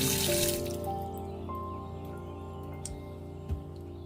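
Tap water runs steadily while fish is washed in a kitchen sink for a fish recipe, a continuous close trickle with a few light drips, no talking.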